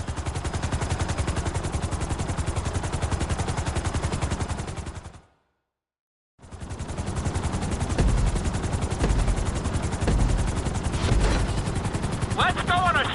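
A helicopter flying in the video game GTA V: a loud, continuous rapid rotor chop with engine whine, cutting out briefly before resuming with some extra clatter and beeps.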